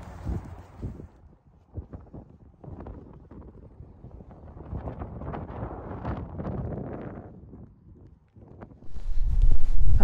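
Wind on the Trent Valley Way hiking trail, buffeting the microphone in uneven rushes, with footsteps and rustling beneath and a louder gust at the end.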